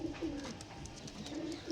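Pigeons coo in soft, repeated low murmurs, fairly close, with a faint background hiss and no talking.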